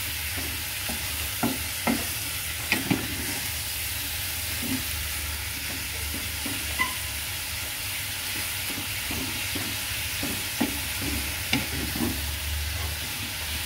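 Menudo ingredients sautéing in a pan with fish sauce, a continuous close sizzle broken by frequent clinks and scrapes of stirring; no talking.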